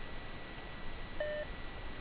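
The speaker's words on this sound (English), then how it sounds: "The buzzer signals the start of the match." A buzzer marking the start of a robot combat match in the Robot Arena game sounds once as a short, clean tone over a steady hiss, brief and moderately clear.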